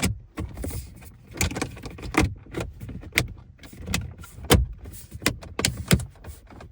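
Plastic car dashboard trim pieces being pressed and snapped back into place by hand, a quick series of sharp clicks and knocks close up with rustling handling in between and no talk.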